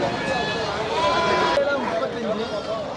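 Goats bleat at the Reddiarpatti goat market, a few calls rising over and under people talking nearby amid busy market noise.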